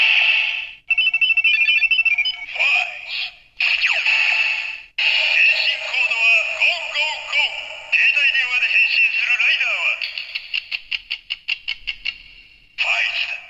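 A Kamen Rider Faiz toy watch plays its electronic sound effects: bright synthetic tones, chimes and buzzy chirps in bursts, with a rapid stuttering beep sequence near the end, loud and close with no background noise.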